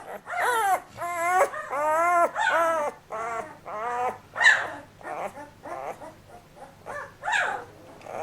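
Twelve-day-old Bully Kutta puppies whimper and whine in a run of high, wavering cries, close by and fairly loud, one after another with brief pauses.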